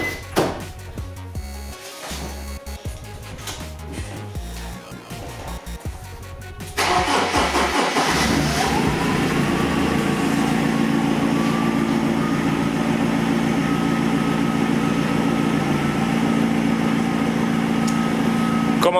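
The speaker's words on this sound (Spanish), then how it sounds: "voy a arrancar el coche" A BMW E46 car cranks briefly and its engine catches, then settles into a steady, loud idle that runs on without change; no voices are heard.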